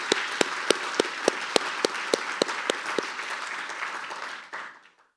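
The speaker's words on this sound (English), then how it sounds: "So I would like a round of applause for tonight's evening." Audience applause at an evening fireside chat event, a sparse, uneven run of distinct claps growing into a fuller wash before fading out quickly near the end.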